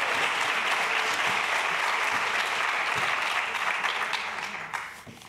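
An audience applauds a round-table panel at a French conference, dense sustained clapping from many hands that holds steady for several seconds before thinning out at the end.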